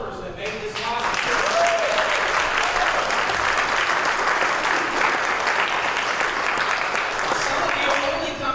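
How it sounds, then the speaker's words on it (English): A church congregation applauds during a Sunday service, a loud, sustained roar of many clapping hands that builds within a second and holds evenly, with a few voices mixed in. "give a round of applause for Cindy"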